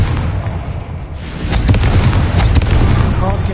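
A Confringo spell explosion in Hogwarts Legacy lands as a loud booming blast with a crackling burst after it, then continues rumbling.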